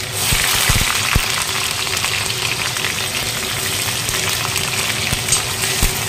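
Duck meat cooks in an iron wok with onions and spices, giving a steady close sizzle and bubbling that runs the whole time, with a few soft stirring knocks and no talk.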